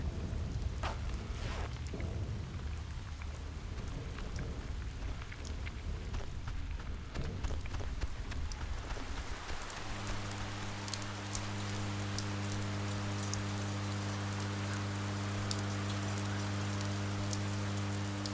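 Heavy rain pours in a video game storm scene in Oxenfree, a dense continuous hiss. Low sustained tonal drones join partway through.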